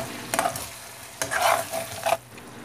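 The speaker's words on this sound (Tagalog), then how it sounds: "Let's stir our pork cube very well with the other ingredients." A spoon scrapes and stirs a pork cube into ground pork sizzling in a pan, giving a few soft scraping strokes over a quiet frying hiss, close by.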